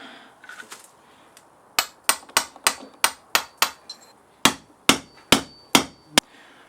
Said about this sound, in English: Okay, so I've hammered the oil seal down in there.